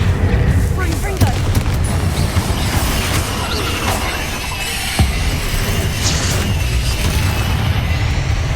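The Confringo blasting spell sets off booming explosions in the Hogwarts Legacy video game, a run of loud cracks and crashes over rumbling combat noise, with a character voice calling out amid the blasts.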